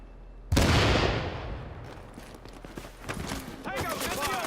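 Heavy gunfire bursts loud and sudden in Tom Clancy's The Division, a dense volley that trails into scattered shots and combat noise while voices talk over it.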